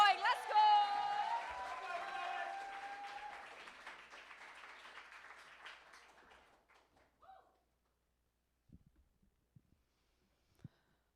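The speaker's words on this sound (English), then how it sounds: "Come on, keep the applause going." A poetry slam audience applauds with a crowd-wide burst that fades away over about six seconds as a host's voice carries over it, followed by near silence with a few faint thumps.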